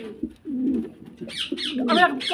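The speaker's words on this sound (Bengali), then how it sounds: "আমি যতগুলো কবুতর আজকে দেখাবো এই ভিডিওতে" Fancy pigeons cooing nearby, low throaty coos followed by a run of louder, brighter calls, with no talking.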